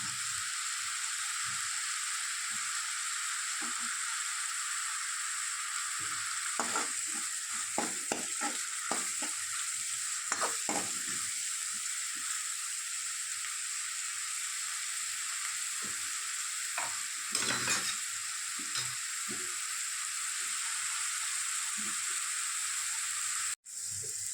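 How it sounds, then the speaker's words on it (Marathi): Onion, coconut and coriander masala paste sautéing in oil for a sprouted moth bean curry, a steady sizzle and hiss throughout with repeated spatula scrapes and stirring knocks, close and fairly loud, no voices. "हे चांगलं आपल्याला तेल सुटेपर्यंत परतून घ्यायचं"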